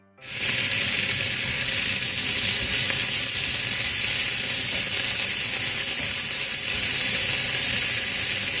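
Eggs sautéing with tomato and onion for shakshuka, a loud continuous sizzle from a hot pan that holds steady throughout with no talking.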